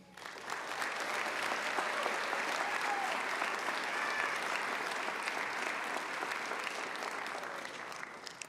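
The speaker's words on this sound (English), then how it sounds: "Please join in another round of applause for the 2026 Ivy Day Awards recipients" Steady audience applause honoring Ivy Day award and Platinum Eagle Award recipients at a Chadron State College ceremony, a dense, sustained wash of clapping that holds evenly for about eight seconds before easing slightly at the end.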